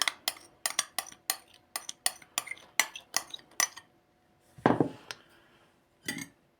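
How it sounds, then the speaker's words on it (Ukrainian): Metal utensil stirring Easter bread (paska) dough ingredients, including vanilla sugar, salt, butter and sour cream, in a bowl; a steady run of close, sharp clinks and scrapes, then a louder scrape and a final clink. "Все ретельно перемішуємо."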